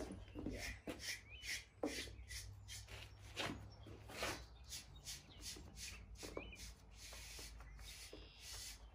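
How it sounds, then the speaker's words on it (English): A horse being groomed at a barn with a brush: repeated rasping strokes across the coat in an uneven rhythm, close and fairly quiet, over a steady low hum. "I'm gonna start grooming her."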